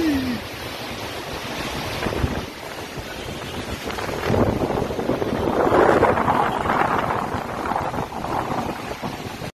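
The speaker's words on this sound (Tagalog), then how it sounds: "Ikot yung hangin." Strong typhoon wind and rain during Typhoon Henry, sheltering at a gasoline station, a constant roaring rush of wind and pouring rain that swells louder midway, with brief talk.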